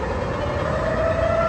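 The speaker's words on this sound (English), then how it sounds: "On the first Tuesday of every month, 112 sirens are flipped on all around Chicago." A Chicago outdoor tornado warning siren sounds during a monthly test, a steady, loud sustained wail that holds its pitch with no talking.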